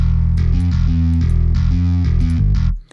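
A bass line runs through guitar distortion plugins in FL Studio for DOOM-style metal. It plays as loud, heavily distorted, gritty notes in a chugging rhythmic riff and cuts off abruptly at the end, with no voice.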